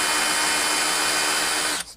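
An electric drill runs at a steady high whine, boring into a broken exhaust bolt on a 1976 Honda Elsinore MR175 motorcycle, loud and close, then cuts off abruptly near the end.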